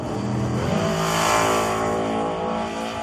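Chevrolet Nova drag car at full throttle down the strip past 1,000 feet, a loud sustained engine roar with steady rising harmonics, alone with no talk.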